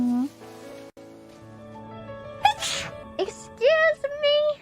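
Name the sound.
sneeze into the microphone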